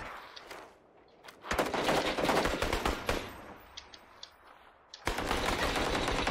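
Rapid automatic gunfire in PUBG, with dense bursts of cracking shots, a pause with a few scattered shots, then another loud sustained volley close by.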